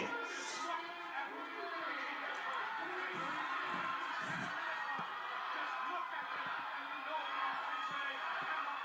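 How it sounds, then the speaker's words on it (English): A wrestling arena crowd at a bloody 1986 Curt Hennig vs. Nick Bockwinkel match roars continuously as a dense, distant wash of cheering and shouting, with voices talking faintly over it. "Now they're just going on each other, and the crowd's like freaking out."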